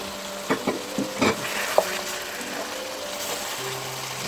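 Mutton and tomato paste fry in a pot for aloo gosht, giving a steady low sizzle with a few brief scraping stirs and clinks early on, heard close up without talk.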